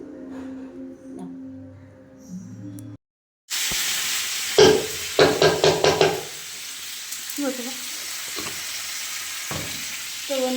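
Khichuri sizzles and fries in a pan as fried coconut is stirred in, a steady hiss broken by a brief silent gap, then a run of quick close scraping knocks of a spoon against the pan.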